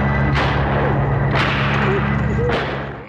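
Three sharp gunshot cracks spaced about a second apart, loud over a dense, steady soundtrack from a 1980s slasher film.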